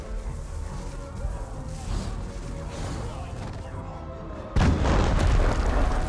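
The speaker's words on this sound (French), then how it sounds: "Quelque chose a explosé." A sudden loud boom from an explosion in the video game Middle-earth: Shadow of War cuts through ongoing game noise near the end, with a player talking throughout.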